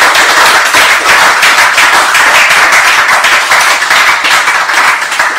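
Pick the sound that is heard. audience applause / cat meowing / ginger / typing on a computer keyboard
audience applause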